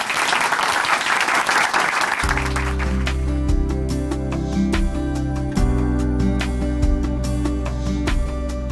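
Church audience applause welcoming a speaker to the stage in a Korean Christian broadcast, a burst of clapping in the opening seconds that gives way to sustained piano and organ music.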